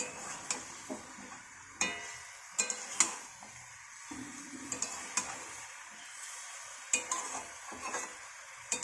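Meat with dry chili powder is stirred in a hot pan, with a spoon scraping in repeated irregular strokes over a soft, close sizzle.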